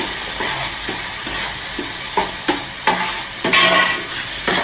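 Fish curry stirred in a shallow pan over a loud steady sizzle, with a regular series of scraping spoon strokes close up and no talking.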